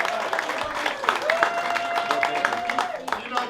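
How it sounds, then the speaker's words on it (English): A kick-off party audience claps in a loose, moderate patter under ongoing crowd chatter, with a sustained tone running through the middle, never building into a loud ovation. "Can we get a round of applause for them?"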